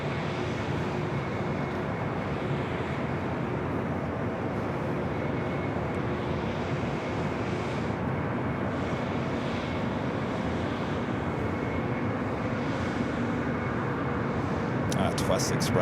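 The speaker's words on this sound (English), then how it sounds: "Next arrival is Southwest Airlines Flight 4582 coming up from St. Louis, Missouri, a 737-800." A Southwest Airlines Boeing 737-800 arriving at LAX from St. Louis gives a continuous mid-level engine roar throughout, with people talking over it and a brief clatter near the end.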